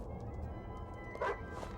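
A dog in the video game Tomb Raider: Angel of Darkness gives a single short bark near the end, over a steady low in-game background rumble.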